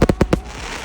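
Fireworks going off, four sharp bangs in quick succession, loud and near, followed by a crackling, hissing tail.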